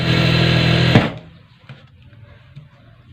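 A sewing machine stitches a frill piece onto a frock with a loud, steady mechanical whir for about a second, then stops abruptly, leaving a quiet room with faint small clicks.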